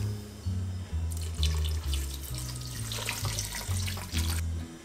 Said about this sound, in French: je vais mouiller avec le vin rouge et le fond blanc de volaille